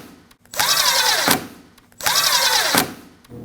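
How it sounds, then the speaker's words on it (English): A power drill drives screws while a front turn signal light is installed on a 2016-2022 Honda Pilot, in two close, loud bursts of about a second each, the motor whining up and winding down. "we can install our screws"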